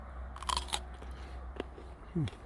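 A thin-skinned, crunchy Sheriff table grape is bitten into close up, giving several crisp crunches followed by quieter chewing, and a short low hum from the eater comes near the end.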